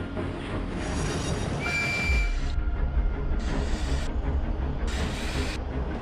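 A train moving in a Thomas & Friends episode: a steady, close rumble of wheels on rails that runs the whole stretch, with a brief high metallic squeal partway through and no voices.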